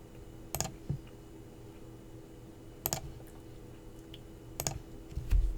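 Keys on a computer keyboard are tapped in three short, quiet bursts a couple of seconds apart against a faint room hum.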